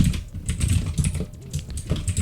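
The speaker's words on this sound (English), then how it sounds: "I've been doing speed typing" Rapid typing on a computer keyboard, a dense stream of close, quick key clicks and clacks with no pauses or voices.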